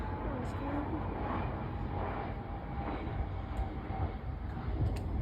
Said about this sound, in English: I'm starting to hear jet sounds.